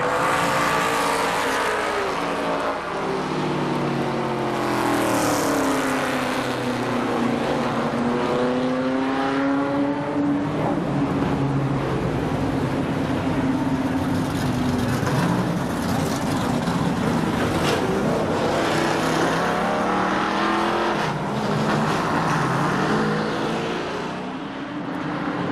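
Race cars roar around the oval at Columbus Motor Speedway during the 1999 Fall Speedfest, loud continuous engine drone with rising and falling pitch as cars pass, close and sustained without voices.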